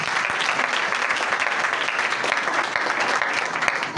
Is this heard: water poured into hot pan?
no